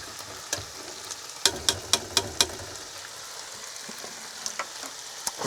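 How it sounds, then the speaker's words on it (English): Food sizzling and spitting in a frying pan during cooking in a camper van on a fishing trip, a soft steady fry close by with a quick run of sharp pops and clatters of stirring. "Right, sizzling."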